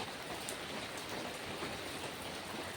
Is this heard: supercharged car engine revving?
no